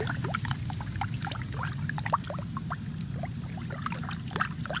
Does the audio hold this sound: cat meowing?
no